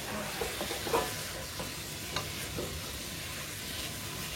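Yellow onions frying in a pot, a steady soft sizzle with occasional stirring scrapes, moderately close and alone without talk.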